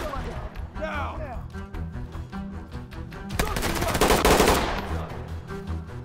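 Rapid gunfire from a SWAT-versus-cartel raid in the tactical shooter game Ready Or Not, bursts building to a loud, dense volley midway, with players talking over the shooting.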